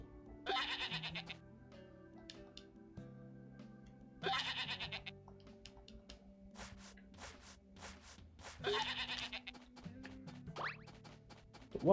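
Sheep bleating in the farming video game Story of Seasons: A Wonderful Life, three separate bleats spaced a few seconds apart, with light thuds and clicks between them.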